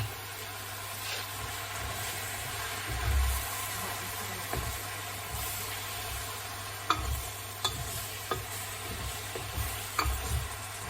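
Cream stirred into salmon frying in a pan, a steady sizzle with scattered scraping and clinking of the spoon against the pan, close and moderately loud, no talking.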